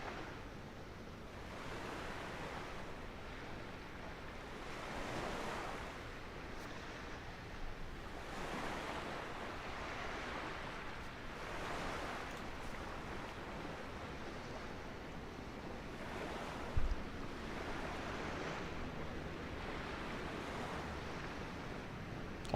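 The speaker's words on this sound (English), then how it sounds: "I love the sound of the waves." Waves break on the Corfu shore in Microsoft Flight Simulator, swelling and receding in a slow regular rhythm every few seconds, a moderately loud surf wash with one soft low bump near the end and no speech.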